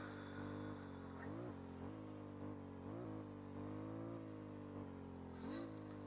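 SBS Predator Mk.X prototype special operations vehicle in Stormworks driving off-road, a steady mid-pitched engine drone with repeated throttle swells and dips, close and continuous.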